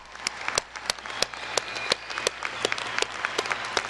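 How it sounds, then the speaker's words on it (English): Graduates' families and friends at a law school commencement applaud steadily, a dense wash of many hands with scattered sharper claps standing out close by, filling the whole moment without speech. "let us give your families and friends a rousing round of applause"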